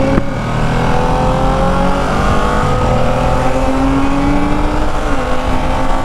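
A stock Ducati 959 Panigale roars hard as it accelerates down an empty stretch of road. The engine sits close and loud, and its pitch climbs steadily with a brief dip at each gear change.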